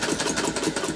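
A vintage Singer sewing machine fitted with an upgraded motor runs slowly and evenly. It makes a close, pulsing whir with a regular stitching rhythm.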